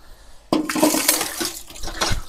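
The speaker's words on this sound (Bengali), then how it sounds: "তা আমি প্রথমে একটু জল টিপবো।" Water is splashed out onto a tulsi platform to wash it, a sudden loud gush starting after a brief quiet moment and continuing as a rushing, splattering pour.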